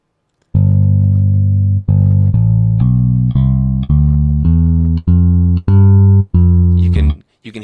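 IK Multimedia MODOBASS virtual bass plays a series of about ten separate, loud, sustained notes in sequence, each cut off cleanly before the next, with subtle shifts in tone from note to note and a short burst of noise at the end.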